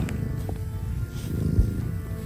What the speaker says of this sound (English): Oh, that's cute purring.